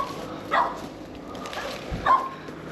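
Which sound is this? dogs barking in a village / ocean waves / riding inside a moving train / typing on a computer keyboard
dogs barking in a village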